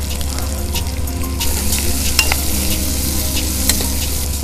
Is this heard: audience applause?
no